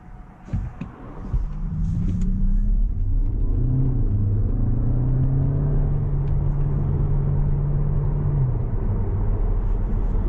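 A Skoda Superb 1.4 iV plug-in hybrid starts by push button after a few clicks and settles into a steady low rumble with a faint rising whine, heard close from inside the vehicle.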